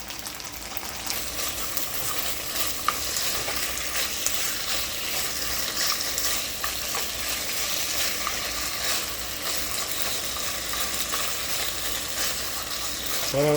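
Minced garlic stir-fries in a hot pan for a pork, broccoli and bok choy stir-fry, a loud, steady, crackling sizzle that runs unbroken throughout with light stirring scrapes and no voices.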